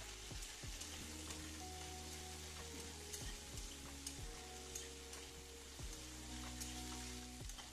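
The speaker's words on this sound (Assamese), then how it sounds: "হালধি আৰু নিমখখিনি দি এইখিনি পুনৰ মই ভাজিবলৈ ধৰিলোঁ" Onion and potato fry with turmeric and salt in a hot pan, a steady close sizzle broken by occasional scrapes and clinks of stirring.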